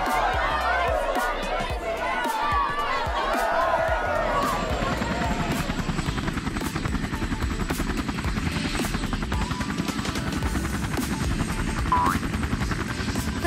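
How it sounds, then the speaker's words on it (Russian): A helicopter flies close by, its loud rotor chop beating rapidly and steadily, with voices and crowd chatter heard early on before the engine drone takes over. "Хорошо, что у меня есть свой вертолет."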